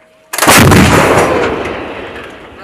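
An M777 howitzer fires at a military field exercise, a single sharp, very loud boom with a broad blast that rolls and slowly decays over a couple of seconds, alone with no talk.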